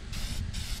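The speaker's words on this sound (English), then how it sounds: "I want to spray paint the outside of this just where it looks more uniformed." Cheap spray paint hissing from a can onto a DIY pond fountain, two short bursts of bright close spray in quick succession over a low background rumble.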